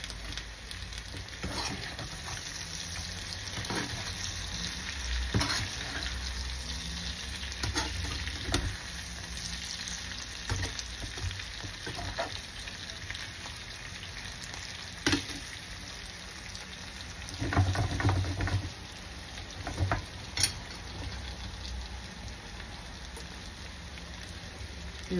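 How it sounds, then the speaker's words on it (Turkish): Potatoes and eggplant frying in a pan with peppers added give a steady, close crackling sizzle throughout, with occasional louder pops and utensil clicks, no talk over it. "Çızdırmaya başladı değil mi? Duyuyorsunuz."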